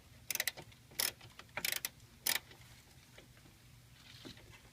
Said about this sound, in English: So it appears 10 millimeter is the winner. And remove this top nut.